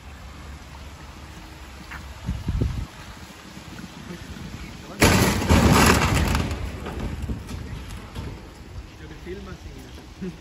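A trailer rolls backwards across a parking lot and crashes into a car: a steady rain-like hiss, then a sudden loud broad crash that tails into rattling noise, with voices speaking around it.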